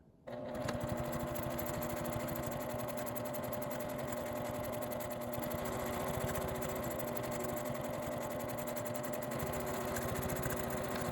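Sewing machine running steadily, edge-stitching close to the edge of a zipper pouch that has been turned right side out and pressed; a continuous, even whir with fast needle chatter, close and alone, with no voices.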